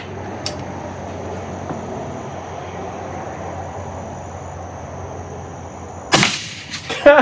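A single suppressed shot of 220 grain subsonic 300 Blackout through a titanium-and-steel suppressor cracks sharply and close near the end of a quiet stretch at a shooting range, followed by a couple of brief mechanical clicks.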